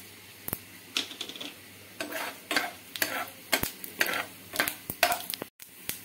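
Dried chilli and black mustard seeds frying in hot oil, a run of close crackling pops and stirring scrapes in irregular bursts, fairly quiet, with no voices.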